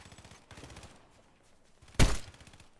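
Sniper rifle shots in the video game Fortnite: a muffled report, then after a pause one loud, sharp crack with a brief echoing tail, both over faint background noise.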